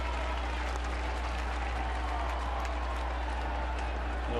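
A big baseball stadium crowd applauds steadily, a dense, even wash of clapping and crowd noise with a constant low hum beneath.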